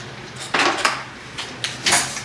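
A small spoon stirs and knocks against the inside of a ceramic crockpot in a home kitchen, giving four or five distinct clinking scrapes spaced irregularly over a quiet background.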